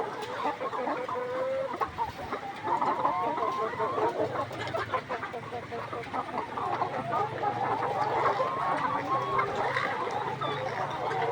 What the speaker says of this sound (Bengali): আলহামদুলিল্লাহ মুরগি সুস্থ আছে